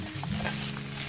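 Garlic chives tossed with fish cake in a hot pan give a steady, soft sizzle with a faint scraping stir, brief and close.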